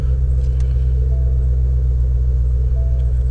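Ford Mustang Shelby GT350 V8 idling after start-up, a steady deep low rumble held close and even throughout, with no speech.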